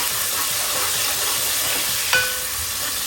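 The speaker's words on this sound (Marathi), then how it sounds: "याच्यात आपण टॅमॅटो टाकूया. पूर्ण शिजून घेऊ" Tomato and onion cook in a pan for a crab curry, giving a loud steady hiss-like sizzle throughout, with one brief metallic clink near the end and no talking.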